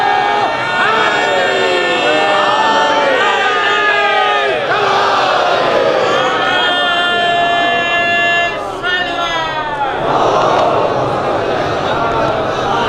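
A large crowd at a majlis gathering recites salawat loudly in unison, voices rising and falling together in repeated waves, with a brief dip before swelling again.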